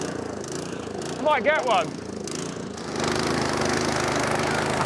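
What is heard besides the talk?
lawn mower running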